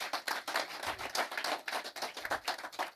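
An audience at a forum claps hands in lively, fairly fast applause, many hands close together forming a dense rattling patter that pulses in waves.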